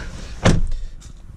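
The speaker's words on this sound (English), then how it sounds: "accidentally slammed it because the doors are so light now." The lightweight door of a 2018 Jeep Wrangler JL is slammed shut, one sharp, solid thud close by, followed by a brief rattle and a faint click.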